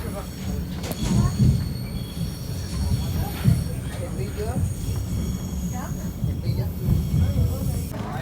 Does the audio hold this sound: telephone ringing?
no